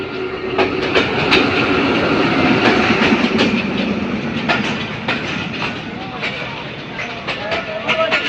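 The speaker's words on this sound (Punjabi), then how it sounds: "ਟ੍ਰੇਨ ਆ ਗਈ ਜੀ ਜਨਾਬ" A train pulls into Pasrur railway station, its wheels clattering and clicking loudly and steadily over the rails as carriages roll past, with people talking nearby throughout.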